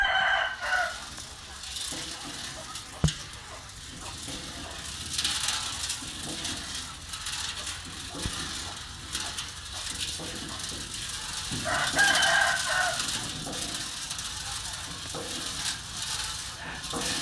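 A rooster crows twice in the distance, once at the start and again later, faint against steady outdoor background noise.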